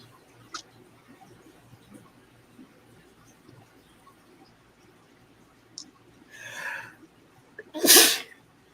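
A single sharp sneeze near the end, preceded by a softer breathy burst, in an otherwise quiet room with faint clicks.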